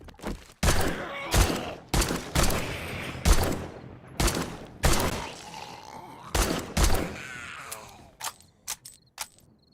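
Repeated gunshots ring out in a zombie video game, loud sharp bursts spaced unevenly over several seconds with brief pauses between volleys.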